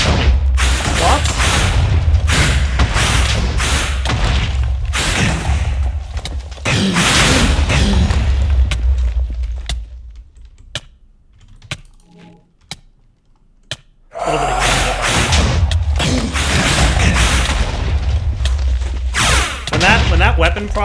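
Repeated loud explosion bursts and heavy thumps from spawning a wither in modded Minecraft, in dense clusters that pause briefly near the middle before resuming at full force.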